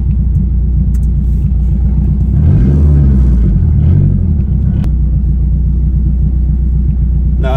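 A turbocharged Acura CL pulls hard in third gear, its engine a loud, steady rumble that swells into a rising rev midway through before easing back, heard close from inside the car with no talk.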